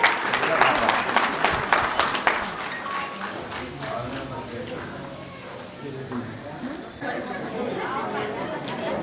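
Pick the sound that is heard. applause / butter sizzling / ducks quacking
applause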